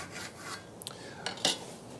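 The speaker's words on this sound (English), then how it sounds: "we're cutting across the grain using this dovetail saw" A dovetail saw cutting across the grain of a piece of wood, heard as quiet, short rasping strokes with a few sharper scrapes, close by and alone.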